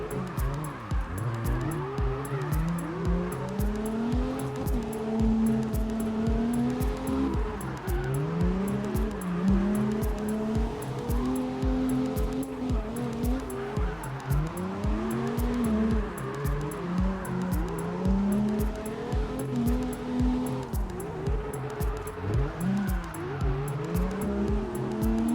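Heavy drift car with a turbocharged engine revving and bouncing through gear changes, tires squealing in long, continuous wails, loud and close throughout, with no voices.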